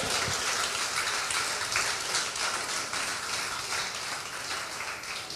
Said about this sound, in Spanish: Dar un aplauso al Padre